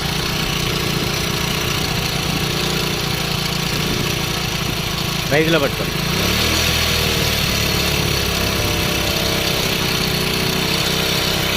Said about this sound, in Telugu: సో ఇంజిన్ నాయిస్ కూడా ఎంత స్మూత్గా వస్తుందో చూడండి